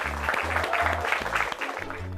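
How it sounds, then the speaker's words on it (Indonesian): A classroom of vocational students claps for a classmate, a brief burst of rapid applause over steady low musical tones, fairly soft and even. "Bagus, tepuk tangan buat saudari Soba."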